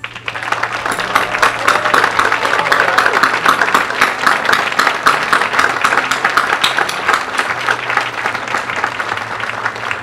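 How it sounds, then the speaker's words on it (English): Sustained audience applause at the grand opening of a contemporary art museum, honoring its trustees: dense, steady clapping from a large crowd filling the hall, loud and continuous without letup. "Could I ask our trustees who are present to please raise their hands for a round of applause?"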